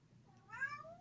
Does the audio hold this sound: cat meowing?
yes